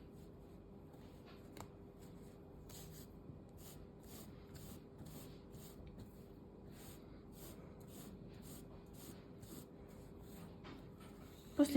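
Thread is drawn through during close hand stitching with needles, heard as soft repeated rubbing and scratchy pulls at an even pace over quiet background hum, ending with a sharper bump.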